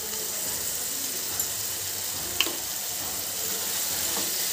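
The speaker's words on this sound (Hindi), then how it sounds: "और अब हम इसे साथ ही साथ जो है ना फ्राई करेंगे चिकन को अच्छे से।" Chicken seasoned with salt, red chilli powder and black pepper fries in a pan with a steady, moderate sizzle, broken by a couple of faint clicks from stirring.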